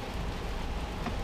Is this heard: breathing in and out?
no